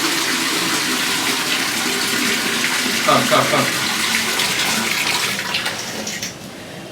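Steady running water from a tap pours throughout, loud and broadband, with a brief murmured word partway through.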